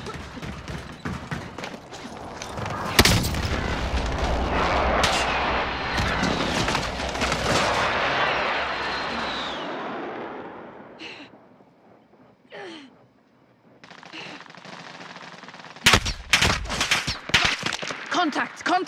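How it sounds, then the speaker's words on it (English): Enemy precision airstrike explosions in a military shooter video game, heavy blasts and sustained rumbling roar, then a lull with faint noises before another cluster of sharp loud impacts, with voices and gasps at times. "Enemy precision airstrike."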